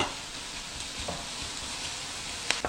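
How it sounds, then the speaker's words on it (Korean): Squid stir-frying in a pan with seasoning sauce over low heat, a steady close sizzle with occasional soft scrapes and a couple of sharper clanks near the end. "이렇게 양념이 볶아지면서 오징어가 또 점점 익습니다"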